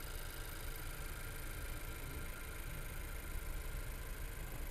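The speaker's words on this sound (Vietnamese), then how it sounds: "Máy móc thì nghe rất là êm tai." A black Honda CR-V, L trim, idles with a quiet, smooth, steady hum that continues evenly throughout.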